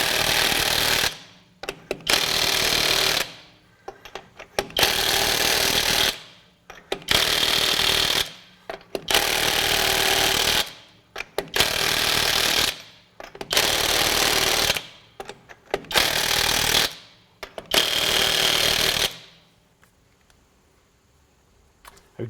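A $100 cordless impact wrench runs at power level 2 in eight loud hammering bursts of about two seconds each, separated by short pauses, each burst rising and ending abruptly, close up with no voices.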